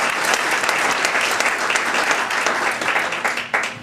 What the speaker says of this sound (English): I think Councilwoman Mularkey deserves a round of applause because I know how hard she's worked on that committee